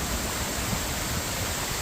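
Steady broadband rush of the Creissels cascade after flood and frost, a dense continuous water roar holding even and close throughout, with no voices over it.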